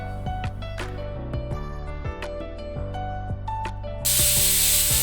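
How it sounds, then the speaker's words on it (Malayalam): A pressure cooker on a home stove, sealed over masala dosa potato filling, bursts into a loud, steady hissing whistle of escaping steam near the end, following a stretch of clattering kitchen sounds and tonal hum; no voices. "മൂന്ന് വിസിൽ വരുന്നവരെ നമ്മൾ വെയിറ്റ് ചെയ്യുക"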